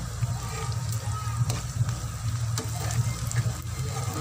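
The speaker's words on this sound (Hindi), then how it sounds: "ये प्याज हमारे फ्राई हो रहे हैं" Onions frying in oil over medium heat while making an onion and egg bhurji, with a soft continuous sizzle, small crackles and occasional stirring scrapes, close and even throughout.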